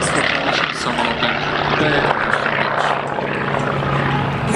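Propeller engines of a B-25 Mitchell, a World War II bomber, droning steadily and loudly throughout with a broad roar and low engine hum, continuous without pause.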